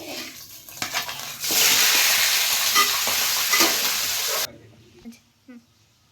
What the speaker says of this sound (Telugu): నూనె వేడయ్యాక చికెన్ వేసేసుకుందాం.